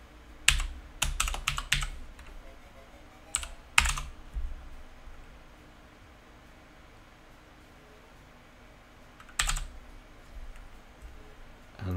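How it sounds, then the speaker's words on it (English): Typing on a computer keyboard in quick bursts of clicky keystrokes, a flurry at the start, another cluster around four seconds and a final burst near the end, with quiet gaps between. "oh, John, get a grip with your keyboard"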